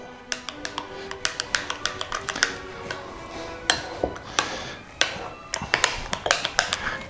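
Spoon or utensil scraping and tapping in a pan while potatoes for tartiflette are mixed with nutmeg, giving irregular clinks and knocks, fairly close and moderately loud, with no talking.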